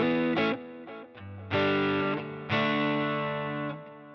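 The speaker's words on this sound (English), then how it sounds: "I'll put the delay on one side and the reverb on the other side." An electric guitar played through a Line 6 Helix rig with delay and reverb rings out in sustained, distorted chords, struck about three times with long, smooth decaying tails, with no voice present.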